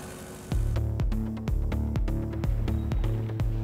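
Propeller training aircraft taxiing toward a run-up area, a steady engine drone with rhythmic periodic thumps repeating about twice a second, close and continuous with no talk.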